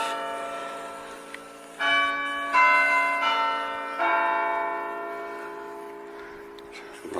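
Church bells at Emmanuel Church in Saltburn-by-the-Sea strike three times in quick succession, each peal leaving a long, shimmering ring that slowly fades at moderate volume over quiet background.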